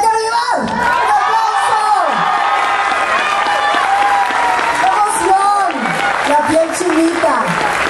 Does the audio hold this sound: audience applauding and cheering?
yes